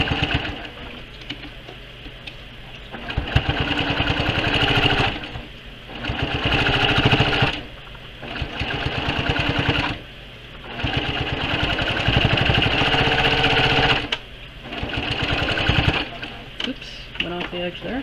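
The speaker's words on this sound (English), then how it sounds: "And some more stitching." A Brother PQ1500SL sewing machine runs straight stitches in repeated bursts of a few seconds each, a fast close mechanical whir that stops and restarts, with a person speaking in the pauses.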